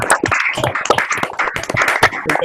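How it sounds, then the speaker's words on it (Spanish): Conference participants applauding over open microphones in an online session, uneven overlapping claps from several people, sharp and close, with clipped, irregular bursts rather than a smooth roar. "nos gustaría a todos los participantes que abran los micrófonos y darte un aplauso por esta canción"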